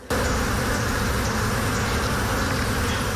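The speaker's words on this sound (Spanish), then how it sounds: "En este colmenar hay cerca de 2 millones de abejas." Dense, steady buzzing of a honeybee swarm in an apiary holding around two million bees, loud and continuous with no break, with no voices over it.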